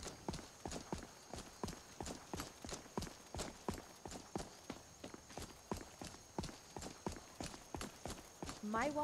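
Steady rhythmic hoofbeats of a horse clip-clopping at a walking pace in the video game Skyrim, close and clear, with a brief whinny-like sound at the end.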